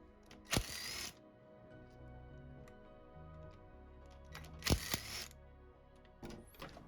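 Two sharp bursts of a ratcheting power tool undoing 17mm hub assembly bolts on a Nissan 350Z rear subframe, a few seconds apart, with quieter mechanical clicks and low hum between them.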